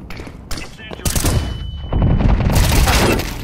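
Rapid automatic gunfire in Counter-Strike 2, loud close bursts of rifle fire in quick succession, with a player's voice talking briefly over the shots.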